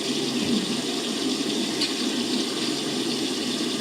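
Extremely hot water pours steadily from a tap into a basin, a dense, even hiss with no pauses, close and fairly loud throughout.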